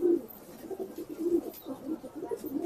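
Pigeons coo in soft, repeated low throaty phrases, several calls overlapping at moderate distance over a faint background hiss, with no talking.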